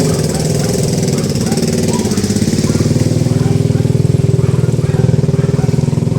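A motorcycle engine running close by on a rural provincial road, a loud steady chugging putter with a fast regular pulse that grows slightly stronger, continuous throughout.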